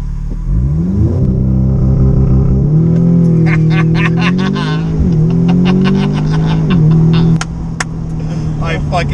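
An Audi S3 fitted with a CTS turbo intake launches hard from inside the car, its engine droning loud and rising through revs with a shift, while people talk and exclaim over it.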